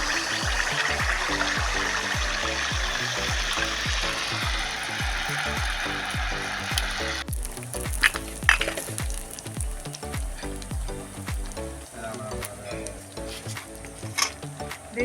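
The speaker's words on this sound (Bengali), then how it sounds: "দেখুন এইভাবে ভেজে নেবেন।" Pitha fries in hot oil, giving a steady bubbling sizzle with rapid crackling pops, then scattered clinks and utensil knocks as frying continues.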